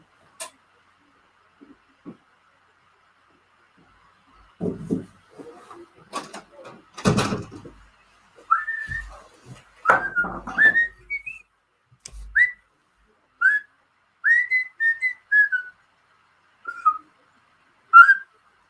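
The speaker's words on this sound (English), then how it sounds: "I shouldn't whistle on camera." A man whistles a casual, wandering tune in short melodic phrases, close and clear, after a stretch of quiet with a few knocks and handling sounds.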